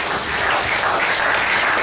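A church congregation gives a steady round of clapping, dense and even, with no voices over it.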